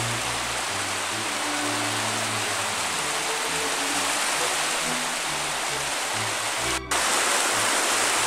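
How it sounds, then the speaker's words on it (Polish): Small waterfall spilling over a low weir on a canal, a steady broadband rush of falling water that stays loud and continuous throughout, with a brief dip and slight shift in tone near the end. "niewielki wodospadzik, biała lądecka"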